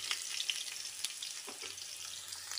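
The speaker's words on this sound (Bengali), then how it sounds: "এবার ভালো করে সবজিগুলোকে আমি ভালো করে ভেজে নেব।" Potato, pumpkin and sweet potato pieces fry in a pan for a mixed vegetable curry, giving a steady, close crackling sizzle with small pops that runs throughout, no voices.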